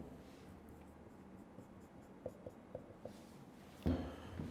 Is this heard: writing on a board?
yes